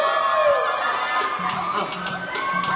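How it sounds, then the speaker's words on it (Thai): Crowd at a stage show cheers and shouts continuously and fairly loud, with voices mixed through the roar and music-like tones underneath. "ขอเสียงกองเชียร์ด้วย"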